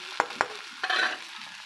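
Chopped onion fries in a pan. Two sharp utensil taps are followed by a short burst of sizzling as it is stirred, all faint and close, with no voices.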